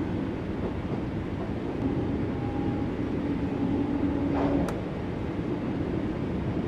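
Old Class 484 Underground train running in Train Sim World 3 on the Island Line to Shanklin: a steady rumbling roll with rail hum and a faint tonal whine, continuous and close throughout.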